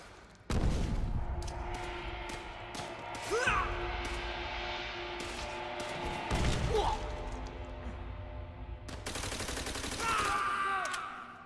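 Grenade blast and gunfire in the shooter Call of Duty: World at War, a sudden heavy explosion followed by scattered shots, thuds and crashes amid continuous battle noise, with shouting voices in the mix.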